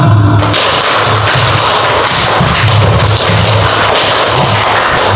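Participants at an Indonesian teachers' training session clap together in a set rhythmic pattern, the loud, dense, close claps filling the whole stretch with no talking.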